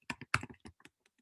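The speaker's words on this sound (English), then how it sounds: "let's type the command Python" Typing a command on a computer keyboard, a run of about eight crisp key clicks in an uneven rhythm, close and clear, fading to a few lighter taps at the end.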